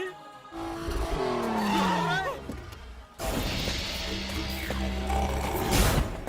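A car is driven hard with tires squealing and engine revving, a loud swerving screech that cuts off sharply, then a renewed engine roar with faint voices over it.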